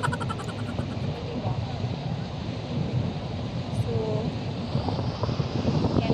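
Strong outdoor wind buffeting the microphone at a bus stop, a constant low roar and rumble with gusting swells throughout, no clear voices over it.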